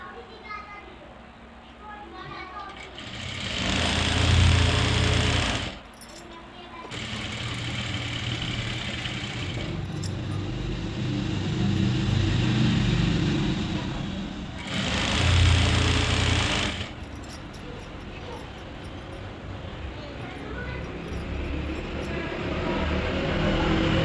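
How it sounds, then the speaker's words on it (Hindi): Sewing machine stitching lehenga fabric at a boutique, a steady mechanical whir running throughout with a few louder surges, while someone talks over it and a voice is briefly heard. "इसे बंद करने के बाद अब ऐसे इसके पास से सिलाई लगाएंगे।"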